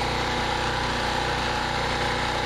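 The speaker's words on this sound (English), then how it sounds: "Because the gas mixture is getting lean now because it's running out of gas." A small gasoline engine runs lean as it burns the last fuel in its carburetor bowl, droning steadily and loudly close by with a rough, buzzing vibration and no talk.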